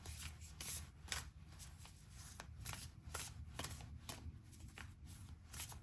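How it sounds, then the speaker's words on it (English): A deck of tarot cards shuffled close by, a run of quick riffling flicks and soft rubs, then a card drawn, faint and with no talk. "let's get a card from this deck"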